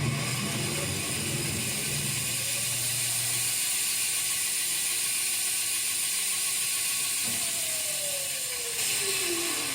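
A bandsaw motor runs steadily at 1,800 speed with a fitted gear reduction box, a loud continuous mechanical whir and hum with no talking.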